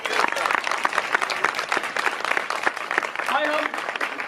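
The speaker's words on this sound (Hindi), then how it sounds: "जोरदार तालियां सलाम।" A congregation at a church service breaks into sustained clapping. The applause is moderately loud and continuous, and a voice briefly sounds through it near the end.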